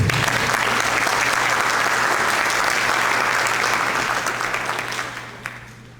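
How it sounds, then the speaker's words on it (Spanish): An audience at a forum on violence against people with disabilities claps in steady, dense applause for about five seconds, then it fades away, with no voices over it. "Le damos la bienvenida con un aplauso."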